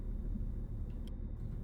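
A 2008-2012 Infiniti EX35 engine idles, a faint, steady low rumble with no other distinct sounds.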